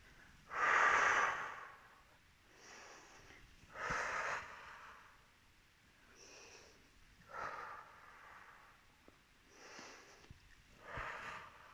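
Deep breaths during a Pilates exercise, with slow, close inhales and exhales in a repeating rhythm of about four or five breaths, the first few strongest and later ones softer, with quiet pauses between.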